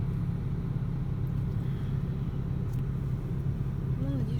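A car driving on the road, its low engine rumble and tyre noise heard steadily from inside the cabin, with a faint voice briefly near the end.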